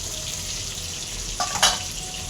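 Fish fries in oil in a pan, a soft, steady sizzling hiss with a couple of brief louder crackles near the end, no voices.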